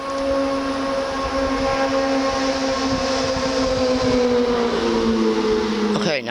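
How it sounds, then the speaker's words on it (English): A motorcycle passes close by on the street with a steady engine drone whose pitch slowly falls as it goes past. The sound ends in a brief sharp noise. "This motorcycle's a pain in the ass."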